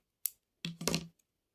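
Scissors snip through crochet yarn: a sharp close click, then a short double snip, in an otherwise quiet room.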